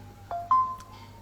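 Short phone notification chime: a couple of soft tonal blips in quick succession over a quiet room hum.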